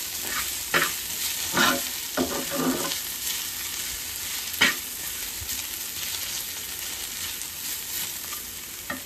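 Potatoes for crispy aloo bhaji frying in a pan with a steady close sizzle, broken by several sharp scraping stirs of a utensil against the pan.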